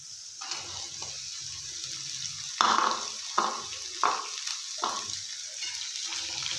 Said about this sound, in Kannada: ಕಟ್ ಮಾಡಿ ಇಟ್ಕೊಂಡಿವ ಉಳ್ಳಾಗಡ್ಡೆ ಅಪ್ಪ ಈರುಳ್ಳಿ ಹಾಕೊಳ್ಳೋಣ